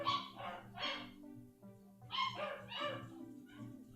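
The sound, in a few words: ghost dogs barking in a video game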